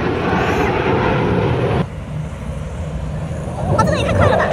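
Jet aircraft roaring overhead at a Labor Day air show in Cleveland, a loud steady rumble with wind noise that dips suddenly and then surges back as another plane passes, with spectators' voices in the background.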